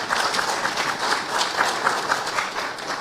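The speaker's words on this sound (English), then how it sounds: "May we accord the CSs a hearty round of applause" A crowd at a mausoleum handover ceremony in Bondo, Siaya County, gives a hearty round of applause, continuous dense clapping at moderate volume throughout.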